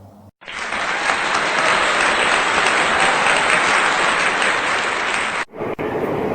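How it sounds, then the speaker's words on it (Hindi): A burst of loud, steady applause from an audience at a stage event fills about five seconds, then cuts off abruptly. "जोरदार तालियों से हार्दिक अभिनंदन है मंच पर"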